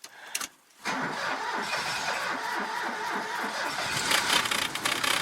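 A Citroën 2CV engine is started with the choke pulled on a cold morning: a brief cranking, then the small engine catches and settles into a steady, slightly uneven idle close by.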